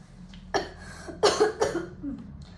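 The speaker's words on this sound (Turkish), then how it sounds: "özür dilerim öksürüyorum hastayım biraz da" A sick person coughs several times in quick, harsh bursts, close by, with a quiet engine hum underneath, riding as a passenger in a moving vehicle.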